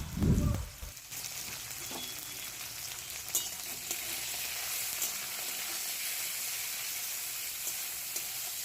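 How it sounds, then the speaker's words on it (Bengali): Bitter gourd pieces dropped into hot oil with a little salt, a brief heavy thump and splash, then an even, steady sizzle of frying that carries on with a few faint clicks. "সামান্য একটু নুন দিয়ে করলাগুলো ভেজে নেওয়া হবে"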